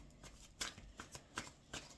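Goddess Tarot cards being shuffled by hand, a quiet run of soft riffling flicks at an irregular rhythm, close and faint, with no talking.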